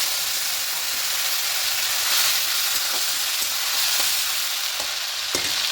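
Chopped tomatoes tossed into a hot frying pan with black cumin seeds and slit green chillies, giving a steady, loud, hissing sizzle with a few faint stirring clicks.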